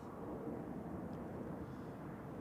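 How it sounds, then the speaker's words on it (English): United airliner taxiing at Zurich Airport toward the hold short position, a steady low engine rumble heard from a distance without break. "United taxiing forward to the hold short position"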